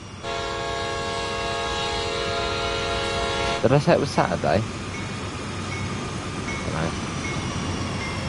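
A long freight train on the Sand Patch Grade in Train Sim World 2 sounds a sustained horn chord for several seconds, then rumbles past up close with clanking cars while someone talks over it.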